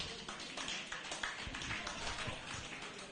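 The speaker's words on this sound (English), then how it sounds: "So can we just give him another round of applause?" Audience applause at a Lagos PSN pharmacy masterclass during the 2023 Annual Pharmacy and Scientific Week, a steady broadband patter of many hands clapping in a hall, sustained and fairly even throughout.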